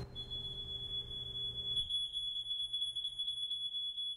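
A theatre sound-effect alarm rings out as a sustained, piercing electronic tone, loud and steady. It carries on alone without any voices.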